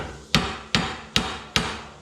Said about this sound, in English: So you just kind of take the hammer here and just